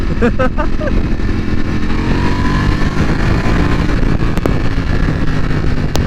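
A 2020 Ducati Panigale V4 R being ridden, its engine running under a rider's voice as he talks, with steady engine drone and passing wind rush throughout.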